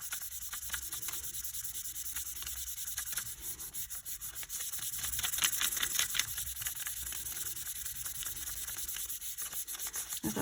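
A polymer clay piece is rubbed onto a pendant with a quiet, continuous scratchy rubbing in short repeated strokes, close up and with no voices.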